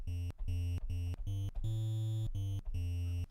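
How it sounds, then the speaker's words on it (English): Triangle wave from the Magical 8-Bit Plug 2 synth, a hollow chiptune tone playing a choppy sequence of about eight short and held notes with gaps between them, alone and clear. "the triangle sounds like this"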